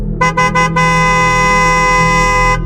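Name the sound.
long loud vehicle horn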